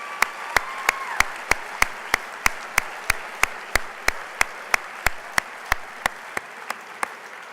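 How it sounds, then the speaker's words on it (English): Banquet audience at an honors award dinner clapping in unison, with sharp, evenly spaced claps roughly three per second, moderately loud and steady with no talking. "Give them a round of applause."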